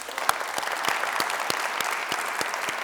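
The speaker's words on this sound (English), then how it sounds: "We'll have one more round of applause for our inductees." Audience applause for the inductees at the UDHS Wall of Fame induction ceremony in 2021, moderately quiet and steady, with a few nearby hands clapping distinctly above the general patter.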